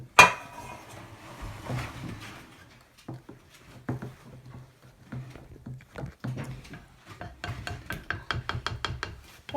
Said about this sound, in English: and stir it good so you get all the sugar that's on the bottom.